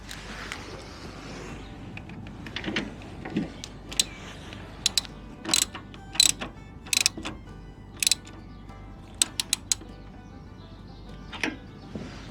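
A ratchet wrench tightens a part during repair work on a Suzuki, its clicks coming in short irregular bursts, close and fairly loud, with pauses between strokes.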